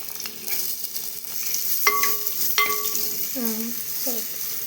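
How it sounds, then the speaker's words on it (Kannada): Onions hit a couple of tablespoons of hot oil for a curd sambar, giving a steady close sizzle with a few stirring scrapes and clinks, no talking. "ಒಂದೆರಡು ಟೇಬಲ್ ಸ್ಪೂನ್ ಅಷ್ಟು ಎಣ್ಣೆ ಹಾಕೊತಿದ್ದೀನಿ ಈರುಳ್ಳಿ ಹಾಕೊತಿದ್ದೀನಿ"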